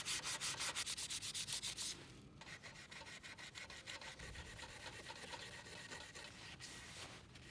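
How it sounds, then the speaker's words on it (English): Paint being scraped and sanded off the wooden headstock of a vintage Epiphone Olympic guitar, a close, steady rasping rub with rhythmic strokes, more rapid and regular during the first two seconds. "as I was removing the paint from the headstock"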